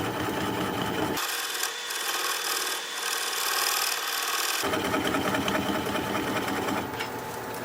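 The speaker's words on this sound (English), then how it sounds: "I'm going to use a swept back bowl gouge so that I can get in there closer" A swept back bowl gouge cuts into red cedar spinning on a wood lathe, giving a loud, steady rasping drone that shifts in tone partway through as the tool's contact with the wood changes.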